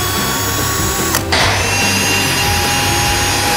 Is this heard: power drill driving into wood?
yes